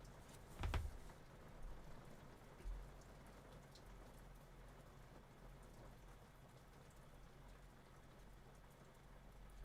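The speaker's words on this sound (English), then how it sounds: "You'll probably hear all the rain now." Steady, faint rain falls outside in a soft continuous patter, with one brief low thump near the start and no voices.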